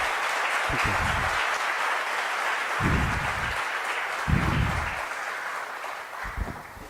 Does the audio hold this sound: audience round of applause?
yes